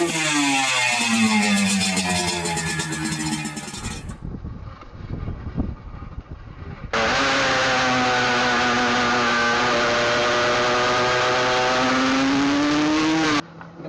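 A Suzuki 250 two-stroke racing motorcycle engine runs loud and close, revving high and steady, cutting out briefly, then holding a long sustained high-rev drone before stopping.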